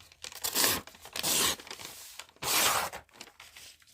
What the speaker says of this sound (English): tear off a bit